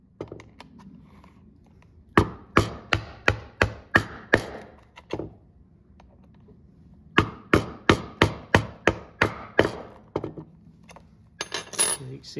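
Two rapid series of sharp metallic hammer strikes, six or more blows each, set rivet burrs on a leather knife sheath in a workshop, separated by a quiet pause and followed by softer taps.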